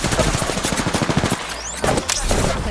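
Triple Take marksman rifle fire in an Apex Legends-style battle royale match, a rapid string of loud, close shots in quick succession, then a brief pause and a few more shots.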